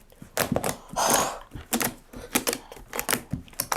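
Slime being clicked and squished by hand, a run of sharp wet clicks and pops in an uneven rhythm, close and fairly loud with no talking.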